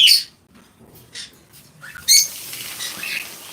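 Pet birds at a bird farm give short high chirps in a few scattered bursts against a quiet background.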